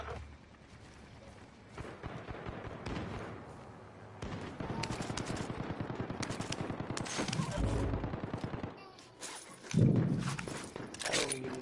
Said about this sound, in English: I hear gunshots everywhere.